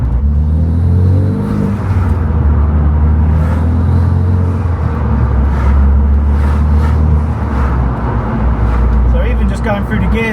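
Renault Clio RS200 with a Meglio ZPO quick-shift installed, its engine droning steadily from inside the cabin as it moves up through the gears, with a voice talking over the continuous road and engine noise.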